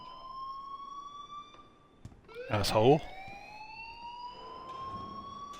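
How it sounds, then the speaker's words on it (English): Steady electronic alarm tone ringing continuously in a school building in the Life is Strange video game, with a brief spoken voice cutting in partway through. "please turn off that alarm since that's your job"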